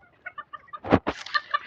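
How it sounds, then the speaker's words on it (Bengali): Farm chickens cluck in short repeated bursts at close range, with one louder squawk from the flock near the middle; no one speaks. "দেখেন এই চারিদিকে মুরগি আসতেছে, এই যে সব ফার্মি মুরগি।"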